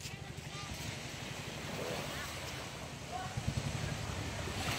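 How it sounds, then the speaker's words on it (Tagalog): A fishing boat's motor hums beneath wind and lapping water outdoors at a fish terminal in Tanza, steady and somewhat distant, with people talking over it. "Ito mga kamike, may paparting na bangka."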